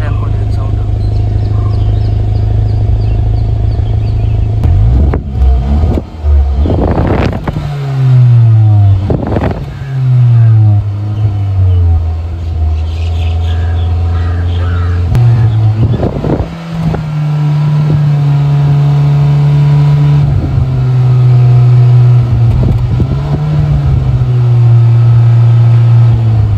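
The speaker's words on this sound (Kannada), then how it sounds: "ಸೊ ಐಡಲ್ ಇದ್ದಾಗ ಈ ರೀತಿಯಾದಂಥ ಒಂದು ಸೌಂಡ್ ಬರುತ್ತೆ." A Hyundai Creta N Line idles with a deep, bassy exhaust note and then revs up several times in rising and falling pulls, heard close and loud while someone talks over it.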